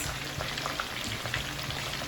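Steady sizzling of fish frying in hot oil, a dense crackling hiss with scattered pops, close by and continuous.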